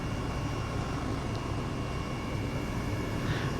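Helicopter flying in Microsoft Flight Simulator 2020, heard from a rear view over Zandvoort in fair weather: a steady, dense engine and rotor drone holds evenly throughout, with no talk over it.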